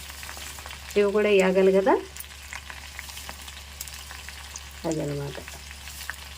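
Fenugreek seeds fry in oil with amla pieces for homemade hair oil, a low steady sizzle and crackle under two short bursts of someone speaking.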